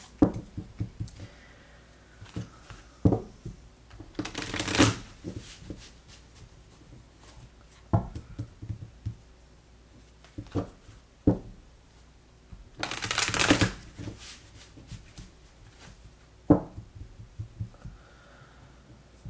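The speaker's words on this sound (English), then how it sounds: "I'm just going to go ahead and shuffle a couple more times here." Cards being shuffled close by in two longer riffled bursts, with scattered soft taps and handling noises between them and no talking.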